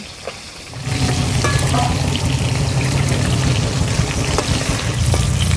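Cut elephant foot yam pieces being washed in water, a steady close splashing and sloshing that starts after a quiet first second and runs on without pause.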